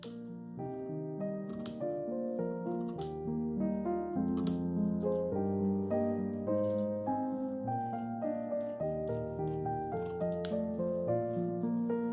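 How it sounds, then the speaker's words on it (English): Scissors snip steadily around a stitched fabric tree design, cutting close to the stitching, with crisp little cuts set against continuous background music. "just cutting out as close as I could get to all those stitches so that I would have just my tree design left"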